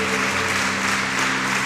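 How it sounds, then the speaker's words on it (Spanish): Applause from a church congregation during a service: a steady, dense wash of clapping that holds for the whole moment, with sustained musical tones running underneath. "Si le va a aplaudir al Señor, hágale fuerte"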